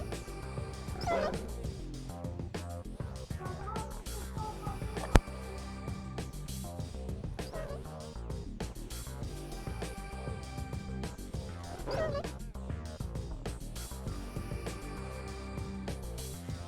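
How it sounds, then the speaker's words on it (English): Dogs fighting and barking in a real-time strategy game match, with repeated yips and bow-wow barks layered over busy game sounds and music. "A dog battle between all players."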